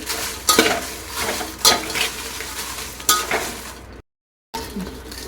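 Byadagi chillies dry-roast on low heat in a pan, stirred with a metal spoon that scrapes and clinks against the pan over a continuous rustling sizzle, cut by a short gap of silence.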